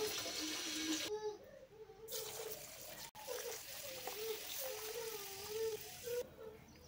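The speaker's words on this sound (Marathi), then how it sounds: "आता आपण ह्याला त्यातील घाण निघेपर्यंत आपण ते धुवून घेऊया." Finger millet (ragi) is washed by hand in water, giving soft sloshing and trickling with brief pauses, close and quiet.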